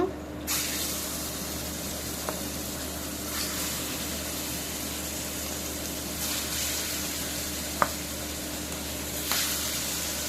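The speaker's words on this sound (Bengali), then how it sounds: "বাকি মাছগুলো ওইভাবে ভেজে নিব।" Pangas fish fries in hot oil with a continuous hissing sizzle that swells in a few sudden bursts, steady and close with no talking.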